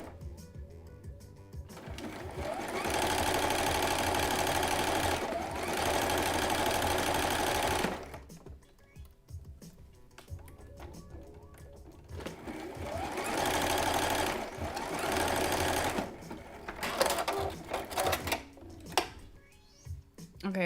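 Sewing machine stitching beige elastic with white thread, running in two long steady bursts of fast mechanical whirring separated by a quieter pause with small handling clicks.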